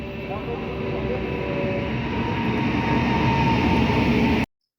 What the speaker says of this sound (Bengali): এখন ট্রেন ঢুকবো ঢুকবো হয়ে গেছে আওয়াজ পাওয়া যাচ্ছে